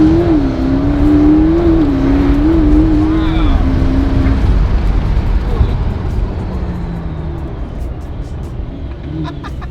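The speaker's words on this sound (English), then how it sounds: "The whole point of going for a joyride in a P1 is so you have" A McLaren P1 supercar accelerates hard on a joyride, its engine note climbing and wavering loudly from inside the cabin before easing into a steadier roar with road rush.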